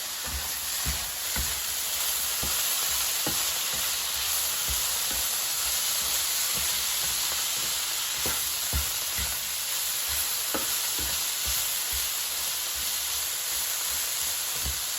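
Frozen vegetables with red pepper flakes sauté in a pan under a steady hiss and faint sizzle. Scattered soft clicks and scrapes from stirring run through the whole stretch, with no talking.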